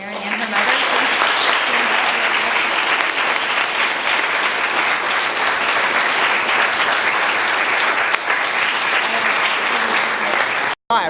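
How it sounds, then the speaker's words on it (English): An audience at a university campus speaking event applauds, a dense, sustained round of clapping that fills the room, loud and continuous until it cuts off near the end. "another huge round of applause for both Karen and her mother."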